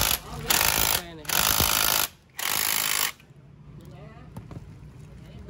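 A power tool drives screws during motorcycle work, fitting a slipper clutch on an Exciter 150: three loud, close, sustained bursts of whirring hammering, each about a second long, followed by quieter shop background and faint talk.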